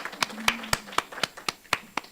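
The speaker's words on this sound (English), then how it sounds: "a round of applause for our students" Faint, evenly spaced claps of applause for students at a school committee meeting, about four sharp claps per second, sounding like only a few people clapping in a quiet room.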